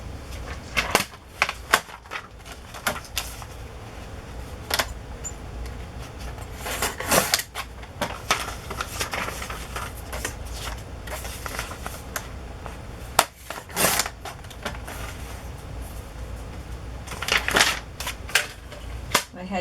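Scissors cutting paper for a large handmade journal page, a series of close, sharp snips and crisp rustles in irregular clusters, with paper handling between the cuts and no talking.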